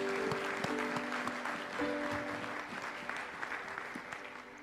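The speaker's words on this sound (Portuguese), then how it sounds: "Aplaude a Deus por isso." Congregation applauding during a Portuguese-language church sermon; steady, moderately loud clapping from many hands fills the space, with sustained organ or keyboard tones underneath and no speech.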